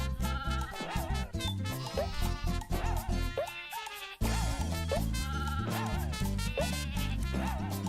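Sheep bleating in the video game Croc, short wavering bleats repeated over busy game music that carries on throughout.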